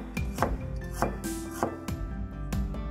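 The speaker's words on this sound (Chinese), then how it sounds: "切点姜片" A knife chops ginger slices on a cutting board, five or six sharp, evenly spaced knocks at a steady rhythm, close and fairly loud with no voices.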